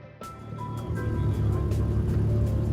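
Vehicles being driven off the aircraft carrier USS Nimitz: a steady motor rumble that swells and holds as engines run close by, with faint voices in the background.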